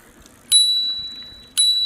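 The bell on a Bodywel T16 Pro Mini foldable e-bike gives two bright, clear rings about a second apart, each with a ringing tone that slowly fades, close up with nothing else sounding.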